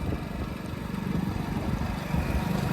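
A low, steady motorcycle engine rumble throughout, running continuously at a moderate level with no talking.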